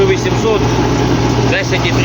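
Engine of an MTZ-82.1 tractor pulling a disc harrow over stubble, droning steadily at moderate revs with a constant low hum, close and loud, while someone talks over it.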